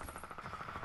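Rapid gunfire in Fortnite crackles continuously as a fast automatic burst, moderately loud and dense through the whole short stretch with no talking.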